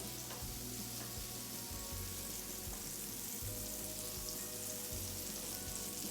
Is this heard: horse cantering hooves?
no